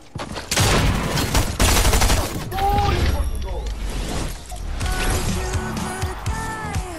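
Rapid bursts of gunfire and shattering impacts in a Fortnite duos match, loud and dense for several seconds and then quieter, with players' voices shouting over the shooting.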